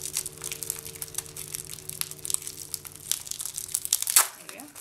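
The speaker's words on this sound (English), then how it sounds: "Then I also got this bracelet cuff, which I'll try and unwrap." A bracelet cuff is unwrapped from crinkly packaging, giving a steady close run of crumpling and tearing rustles that ends in a sharper rip near the end.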